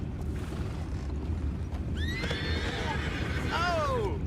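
Horses in Red Dead Redemption 2 let out two shrill whinnies in the second half, heard over a steady low rumble of game ambience.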